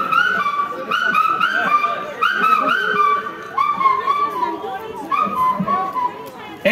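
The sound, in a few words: voice imitating the call of the bou kaka bird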